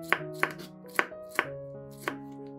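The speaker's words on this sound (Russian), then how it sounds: "Перец нарезаем пластинками, а затем режем брусочками." A knife chops a large sweet bell pepper into strips on a board, five crisp, evenly spaced strokes, close and clear over soft background music, with no talking.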